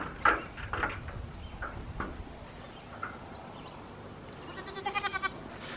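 Goats bleat intermittently at a distance, several short cries scattered over quiet outdoor background, ending with a quick run of rapid bleats.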